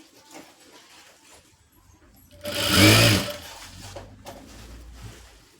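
One short, loud run of a sewing machine stitching a blouse lasts about a second amid quiet room tone, with faint rustling before and after.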